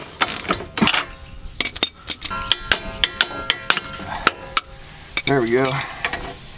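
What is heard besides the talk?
loosening bolts on Jeep steering stabilizer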